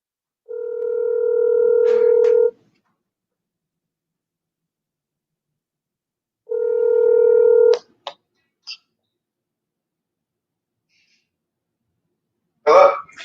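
Telephone dialing tones: two sustained steady tones of about two seconds each, separated by silence, followed by a couple of short clicks and a brief burst of noise at the end, clear and alone with no talk.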